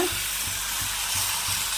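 Batter sizzling as it is poured into a hot pan, a continuous close hiss with a few soft rhythmic scraping or stirring touches underneath, no talk.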